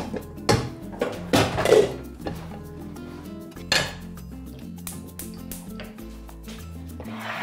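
Chopped onion tipped into a cooking pot for an Armenian lentil and noodle soup, heard as a few loud clattering knocks and scrapes of metal against the pot, then lighter clinks and rustles.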